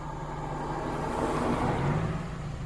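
A car drives past on a street during trash picking in New York City, a steady mid-level road rumble that swells slightly toward the middle and eases off, with no talking.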